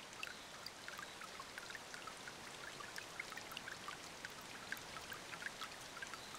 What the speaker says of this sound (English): It pours down the mountainsides and into Ashio's flowing rivers.